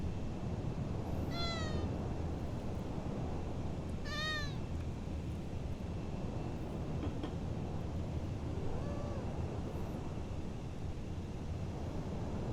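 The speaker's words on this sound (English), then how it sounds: "Are you happy, kitty?" A pet cat gives two clear meows, then a fainter third, over a steady background of broadband hiss and hum with no voices.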